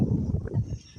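Strong wind blowing outdoors near gardens and a pond, buffeting the microphone with a loud low rumble throughout the short moment.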